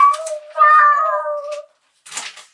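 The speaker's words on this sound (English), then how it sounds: "I have a kitty on my shoulder." A cat meows close by, a drawn-out tonal meow followed by a shorter, breathier one after a brief pause, loud and clear with no talk.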